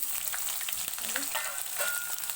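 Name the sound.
onions frying in tempering oil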